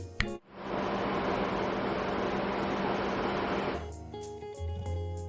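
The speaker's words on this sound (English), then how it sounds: "the engine room sounds like this" Machinery in a ship's engine room roars as a dense, loud, continuous wall of noise after a sharp opening knock, then gives way to lower humming and whining tones.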